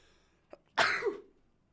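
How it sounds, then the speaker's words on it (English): A single sharp sneeze bursts out close up after a quick intake of breath, then fades to quiet. "I'm going to sneeze."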